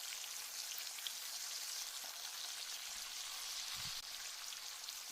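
Meat for a Philly cheesesteak sandwich frying in a pan gives a faint, continuous sizzle with a soft crackle, steady throughout and heard alone.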